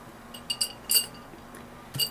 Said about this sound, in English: It's a nice big, pretty sharp shard of glass I'm going to drop in.